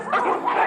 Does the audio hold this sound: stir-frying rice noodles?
no